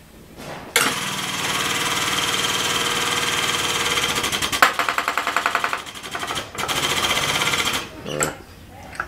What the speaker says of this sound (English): That's a 12-ton cylinder Glenn just used to crack it.